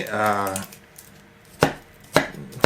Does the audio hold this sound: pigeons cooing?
no